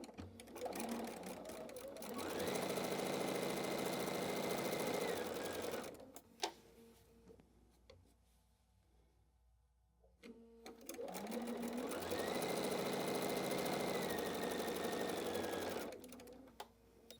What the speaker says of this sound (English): I'm going to sew from here to here